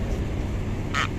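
A bird caught on a fishing line gives one short, loud, harsh call over steady outdoor background noise.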